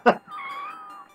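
A kitten in the Death Road to Canada video game gives a short sharp yelp, then a longer, thin, wavering meow that trails off, close and clear with no talk over it.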